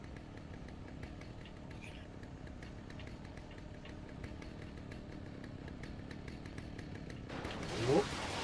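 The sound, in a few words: chainsaw in video game Alan Wake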